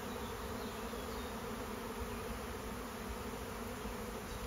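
A dense swarm of honeybees hums steadily at a hive entrance as they move in, a continuous close buzzing drone filling the whole stretch without pause.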